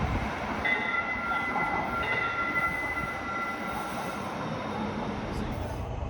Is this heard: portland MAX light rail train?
yes